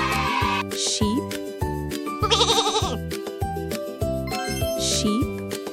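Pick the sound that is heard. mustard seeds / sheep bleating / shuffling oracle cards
sheep bleating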